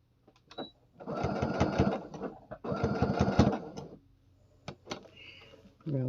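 Sewing machine stitching fabric for a homemade baby toy: two bursts of rapid mechanical stitching, each about a second long, separated by short pauses and scattered clicks.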